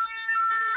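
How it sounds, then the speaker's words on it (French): A fire truck siren wails steadily and loudly as the engine arrives on an emergency call in Paris, holding a sustained tone with no voices over it. "Donc là, c'est un camion des pompiers qui vient d'arriver en urgence."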